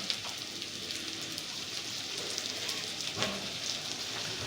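Garlic paste frying in a pan on very low heat gives a soft, steady sizzle and faint crackle, quiet and continuous with no talking.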